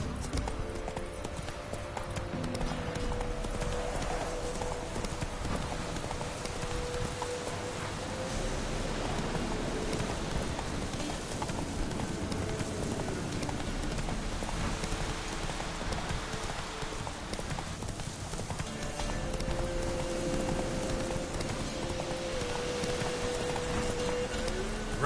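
Roach the horse gallops in The Witcher 3: Wild Hunt, her hooves drumming a steady, fast clip-clop over a long stretch under a constant wash of rain. A faint snort or whinny rises now and then.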